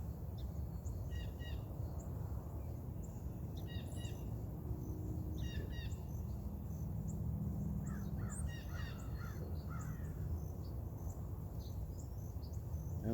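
Birds call intermittently at a distance, with crow-like caws and scattered chirps over a low steady background hum.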